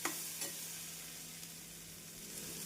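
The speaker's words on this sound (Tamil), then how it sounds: "எலுமிச்சை பழத்தை சேர்த்து ஒரு முறை மிக்ஸ் செய்து" Stirring lemon pieces into a pan of coconut milk sothi with curry leaves and coriander, a soft steady scraping and gentle sizzle running throughout, with a couple of louder clinks near the start and no talking.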